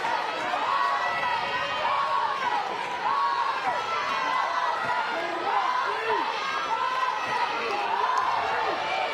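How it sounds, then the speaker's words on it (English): Sold-out softball stadium crowd, the largest in its history, at an Oklahoma vs Oklahoma State game, a dense, continuous roar of voices and calls with rising shouts, steady and enveloping throughout, under a commentator talking. "Sold out crowd, largest crowd in the history of this stadium,"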